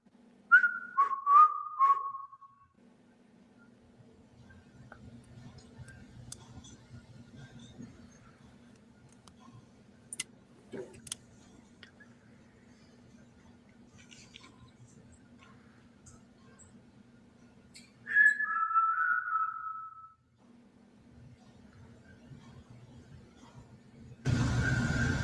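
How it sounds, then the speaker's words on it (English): Whistling inside a room: a short descending whistled phrase at the start and another near the end, each faint and brief, separated by long quiet stretches with low background hum and scattered ticks. "So we heard whistles."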